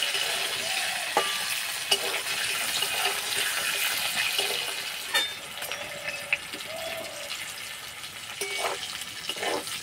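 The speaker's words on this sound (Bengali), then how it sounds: "কিছুক্ষণ লাল লাল করে ভেজে নিতে হবে।" Vegetable stems, leafy greens' stalks, fry in hot oil in a pan, a steady close sizzle with occasional stirring clinks, with no talking.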